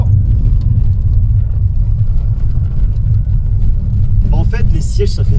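A Mercedes 190 W201 drives over a rough road with small potholes: steady, loud low road rumble and engine drone from inside the cabin, with a voice talking over it near the end.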